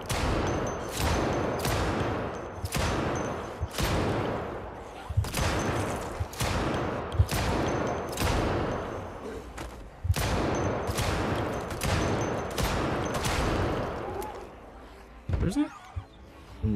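9mm gunfire in the video game Project Zomboid rings out as a long run of about twenty sharp, loud shots in a fast, fairly regular rhythm, each trailing off briefly before the next, with a short pause near the end.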